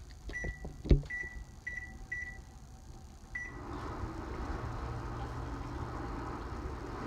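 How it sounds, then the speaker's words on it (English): Kitchen timer set for 20 minutes while Scotch eggs cook: a click, then a series of short, evenly spaced electronic beeps, followed by a steady low hum. "So we'll set the timer for 20 minutes."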